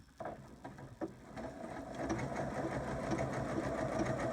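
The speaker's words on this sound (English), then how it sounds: "going to take a few stitches here" A sewing machine stitches appliqué fabric with a clear foot, a steady close mechanical whirr that starts after a few brief taps and runs continuously to the end, with no talking.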